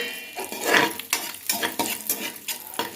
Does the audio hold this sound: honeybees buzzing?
no